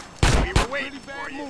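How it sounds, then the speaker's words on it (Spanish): Gunfire in GTA San Andreas: two loud, sharp blasts in quick succession, followed by a voice talking excitedly over the lingering game sound. "Nos están disparando."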